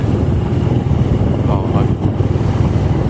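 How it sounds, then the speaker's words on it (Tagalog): Motorcycles come toward the recorder and pass on a road in Pangasinan, a loud continuous engine drone mixed with heavy wind buffeting, with a brief voice partly buried in the noise. "Abangan natin yung mga masalubong natin na nagmamaneho ng motor."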